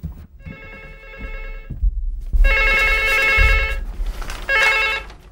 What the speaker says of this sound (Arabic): قم سير سير شوف التليفون.